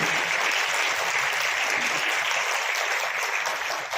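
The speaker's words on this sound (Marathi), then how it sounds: "एकदा जोरदार टाळ्या त्या सर्वांसाठी" A school audience claps loudly and steadily for the teachers and staff, a dense continuous wash of many hands for the full stretch, close and alone without speech.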